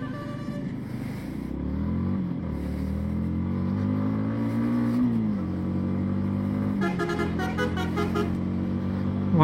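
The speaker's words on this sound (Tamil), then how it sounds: "வண்டி 6000 RPMல தான் வந்து அந்த ஒரு ரோரான ஒரு நல்ல ஒரு பவர்ஃபுல்லான அந்த ஒரு ரோர் கேட்குதுன்னு கூட சொல்லலாம்." A 2024 Yamaha MT-15 155cc motorcycle idles steadily, then revs up and down in rising and falling sweeps, its engine note close and continuous, with a brief burst of higher clatter near the end.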